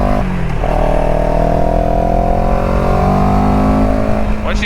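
A CFMOTO CLX 700 motorcycle being ridden, its engine droning loud and close with a steady rising pitch under acceleration and a constant rush of wind over it.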